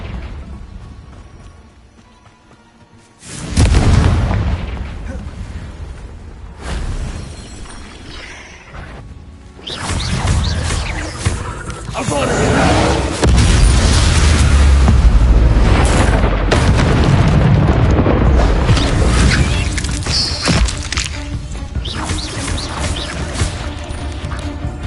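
Booming blasts from the Confringo fire-explosion spell in a video game on a PS5 Pro ring out in repeated loud bursts, with a steady roar of effects continuing between them.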